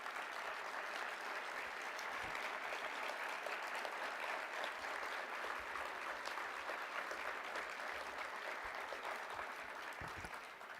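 Applause fills the hall at a celebration-of-life memorial gathering, a broad steady clapping from a large seated crowd, faint and distant in level but continuous for about ten seconds.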